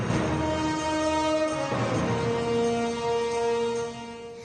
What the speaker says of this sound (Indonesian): melakukan perjalanan dari Madinah ke Mekah dengan kereta cepat andalan Arab Saudi, yakni Al-Haramain Express